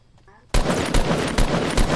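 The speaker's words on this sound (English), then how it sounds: "I'm gonna put some shots on them." Rapid bursts of automatic gunfire in a squad-based shooter video game ring out loud and close after a moment of quiet, continuing as a dense, repeated volley.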